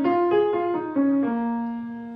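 A trumpet plays a blues scale, several sustained, clear notes stepping down in pitch, close and loud with no talking.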